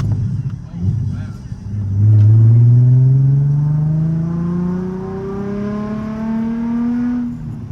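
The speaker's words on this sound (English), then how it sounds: "the exhaust sounds really good" A Nissan 350Z exhaust revs up in one long rising sweep, the engine note climbing steadily and holding high, loud and close, with a brief voice beforehand.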